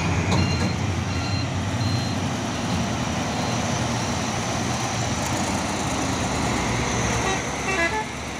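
A heavy Fuso truck engine carrying heavy equipment rumbles steadily nearby on an uphill climb, with intermittent beeping tones and a brief horn toot.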